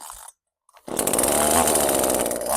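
Small chainsaw engine sputters briefly, falls silent, then starts and runs at a loud, steady, close buzzing idle.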